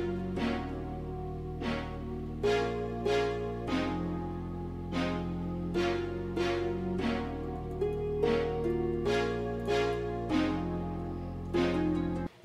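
A low synth bass holds sustained notes that change every bar or so, beneath a plucky melodic line with regularly repeating note attacks.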